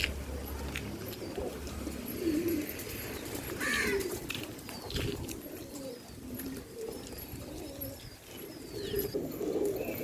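Flock of flying pigeons kept by a breeder coos in low, repeated phrases at moderate distance, overlapping into a soft continuous murmur with faint chirps and no voices.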